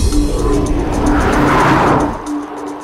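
A Mazda 6 car drives past, loud and close, with engine and tire noise that swells to a peak midway through and then recedes within about three seconds.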